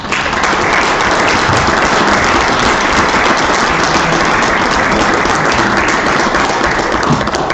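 An audience at a regional conference forum in Vicuña applauds a speaker's welcome, dense sustained clapping filling the room loudly and evenly from start to finish.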